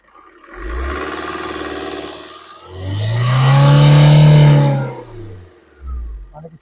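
A 2019 Maruti Baleno Delta diesel car engine revs up close by in two swells, a short rise followed by a longer, stronger climb that holds and then falls back to idle.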